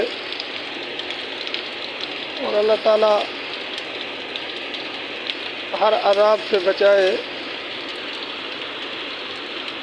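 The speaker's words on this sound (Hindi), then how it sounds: "बारिश इस वक्त भी शुरू है।" Steady rain falls in Dera Ismail Khan, a constant soft hiss of drops on surfaces, while someone speaks briefly twice over it.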